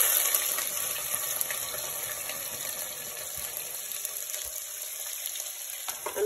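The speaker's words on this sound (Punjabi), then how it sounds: "ਸਾਨੂੰ ਪਿਆਜ਼ ਨੂੰ ਭੁੰਨਾਂਗੇ ਇਹਦਾ ਕਲਰ ਚੇਂਜ ਹੋਣ ਤੱਕ" Onions frying in a pan for rajma give a steady, soft sizzle with a faint watery crackle throughout, fairly quiet and unbroken, with no voices.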